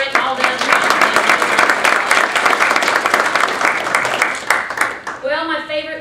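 Audience at a university Blue-White luncheon breaks into loud, sustained applause and cheering, a dense wash of clapping that holds steady for several seconds, then gives way to a speaking voice near the end.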